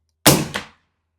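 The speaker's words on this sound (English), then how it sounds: "trying out with the suppressor. Hopefully no baffle strike." Single suppressed shot from a 45-70 rifle firing a subsonic handload, a sharp close report followed by a quick second thump and a short fading tail into silence.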